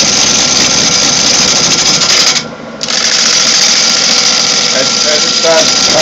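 Wood lathe rough turning a blank with a gouge, a loud continuous whirring, rumbling cut with a brief dip midway before the cutting resumes.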